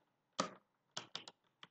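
Quick clusters of keystrokes on a computer keyboard while Java code is typed, close and crisp, with short pauses between bursts and no voices.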